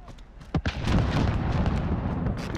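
Gunfire in the video game Modern Warfare: a couple of sharp, booming shots followed by a dense, noisy rumble of battle sound, loud and close.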